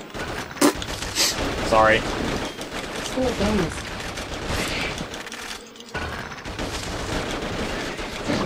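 Rapid gunfire bursts and booms from the shooter game Attack of the Movies 3D, with volleys running nearly throughout alongside game effects, while several players talk and react over the top.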